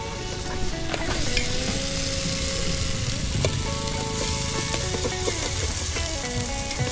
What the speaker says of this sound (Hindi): पहले हमने ये तड़का लगा के इसमें डाले प्याज और टमाटर मिर्ची उनका पेस्ट है जो तैयार कर रहे हैं।